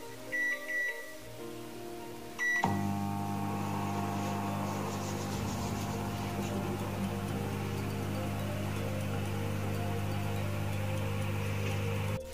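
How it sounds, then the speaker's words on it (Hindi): A microwave oven runs steadily while baking a mug cake, a loud continuous hum with strong tonal bands after a brief start-up click and beep, lasting through the whole stretch without speech. "माइक्रोवेव अब 2 मिनट।"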